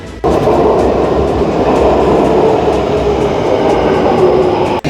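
Metro train in Üsküdar, Istanbul, rumbling steadily and loudly from start to finish, a continuous close roar of wheels and carriage noise with faint clatter and no voices.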